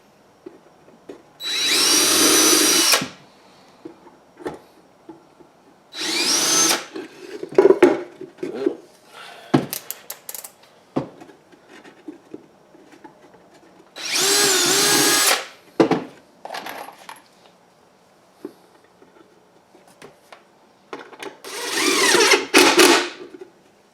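A power drill drives Torx screws into the wooden panels of a bluebird house in four or five loud whirring bursts, separated by quieter clicks and handling clatter.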